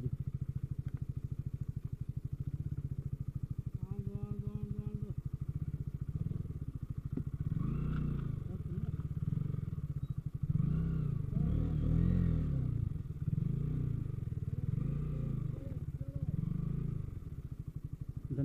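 A Kawasaki ZX-10R sport motorcycle is ridden off-road over rough ground, its engine rumbling steadily with bursts of revving and clattering thumps, close up throughout, with occasional talk from the rider.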